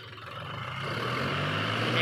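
Three tractors strain to haul a heavily loaded wood trailer, their engines droning loud and close in a steady rising roar with no pause.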